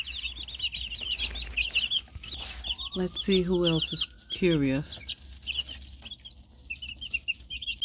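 Chickens cluck in a coop with baby chicks peeping steadily high in the background and louder clucking bursts from the hens in the middle, while a person talks briefly nearby.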